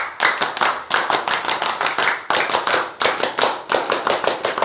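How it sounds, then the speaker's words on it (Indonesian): A group performs the Indonesian scout clap, tepuk pramuka, to close a regional scouting discussion session: a loud burst of rhythmic, close hand claps in quick, patterned sequences that repeat in short phrases with brief pauses between. "Kita tutup dengan 2 kali tepuk pramuka."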